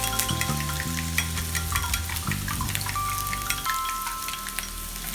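Garlic and shallots sautéing in a pan for fried wonton filling, a steady close sizzle with stirring scrapes and faint clinks running throughout, with no talking.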